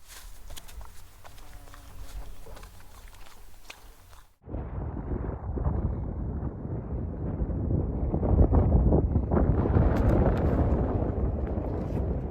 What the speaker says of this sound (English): This is a nice breeze.